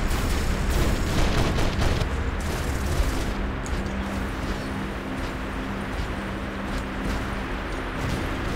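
Space weapon fire from the War Robots video game bursts in dense, rapid volleys, followed by a steadier rumbling barrage with a low hum underneath.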